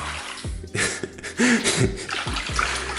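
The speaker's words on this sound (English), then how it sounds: "They want this like fresh moving water." Fresh running water poured or flowing for pet bearded dragons to drink, a steady splashing wash close by with brief knocks, heard alone without talk.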